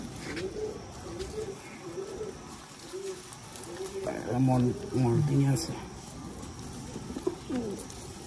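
Madrasi tippler pigeons in a breeding pair coo in low, repeated throaty phrases, close and clear, with a louder cluster of coos midway and light background noise.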